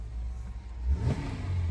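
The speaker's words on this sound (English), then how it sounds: "the engine sounds perfect in this thing" An Acura car engine revs steadily at a moderate pitch, swelling slightly in the middle then holding, with a faint whir and light clatter underneath, no one speaking.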